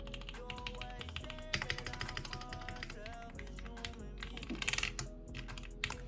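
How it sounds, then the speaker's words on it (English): Keystrokes on a custom Aura 65 mechanical keyboard with lubed switches form a quick, close run of muted clacks, with denser bursts of typing in the second half. "But these keycaps, I'm going to quickly do a sound test."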